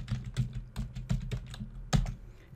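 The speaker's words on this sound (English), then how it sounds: "I'm going to type in the word checklist" Computer keyboard being typed on while entering a search word in Microsoft Word, a quick run of close, crisp key clicks in uneven bursts with no talking.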